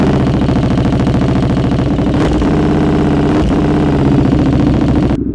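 A KTM Superduke 1290 motorcycle engine runs cold on a dyno, a loud, continuous rapid throbbing with steady intensity and a brief dip midway, no voices over it.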